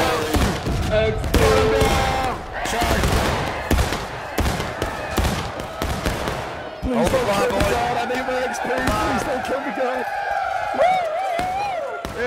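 Rapid volleys of gunfire crack through a video game battle, dense and loud bursts repeating throughout with shouting voices over the top.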